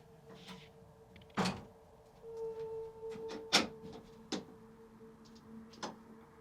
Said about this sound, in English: And then when we close this door